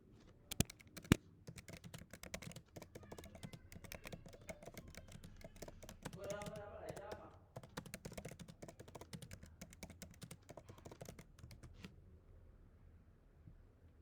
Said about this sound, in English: I'm gonna type it down there.